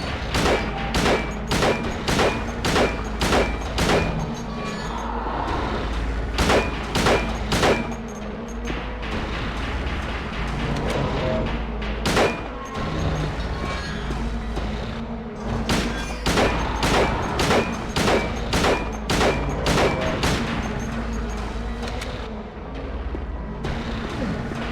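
Repeated bursts of video game gunfire, loud and close, fired in rapid volleys with short pauses between them, continuing steadily with heavy booming impacts and no talking over it.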